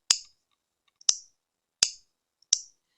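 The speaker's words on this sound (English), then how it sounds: "it's going to click. And I like the clicking sound." Four sharp clicks from a tatting shuttle as thread is wound onto it, spaced irregularly about a second apart, crisp and close with silence between.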